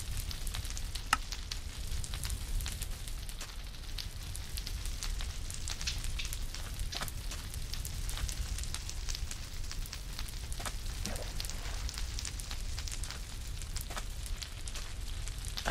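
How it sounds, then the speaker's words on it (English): A bonfire burns in the Minecraft video game, giving a steady crackling hiss with scattered sharp pops, continuous and fairly close with no voices. "I just love a good bonfire."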